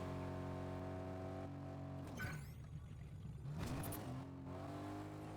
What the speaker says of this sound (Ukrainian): Бачимо, машина рухається.